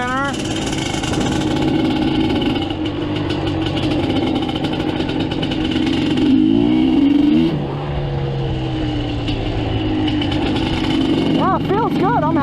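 A Suzuki LT250R ATV engine revs loud and close on a warm-up lap, its pitch rising and falling through several throttle sweeps, with speech over it.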